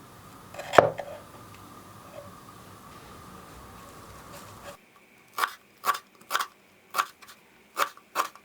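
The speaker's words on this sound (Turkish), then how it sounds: "yarım demet maydanozu ince ince doğrayalım" Knife finely chopping half a bunch of parsley on a cutting board, about six crisp, evenly spaced cuts in quick succession, close and clear, after a few softer handling noises.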